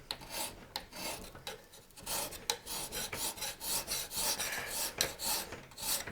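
A hand file rasps steadily across a forged sgian dubh blade, a loud, close scraping in rapid back-and-forth strokes with a few brief pauses between them.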